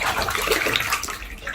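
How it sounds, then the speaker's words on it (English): Water runs and gurgles steadily down a bathtub drain, a close, continuous rushing splash with no voices. "So it goes down the drain just fine, but you have to run water."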